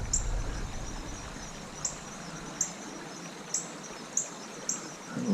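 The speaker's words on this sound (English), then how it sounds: "Little birds in that bush over there." Small birds call from a bush outdoors, giving faint, brief high chirps that repeat roughly every half second to a second over a low, steady background rush.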